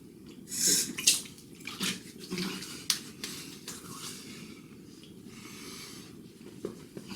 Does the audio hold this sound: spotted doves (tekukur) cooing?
no